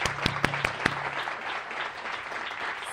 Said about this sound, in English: give her a round of applause before she comes on stage for the award she won this year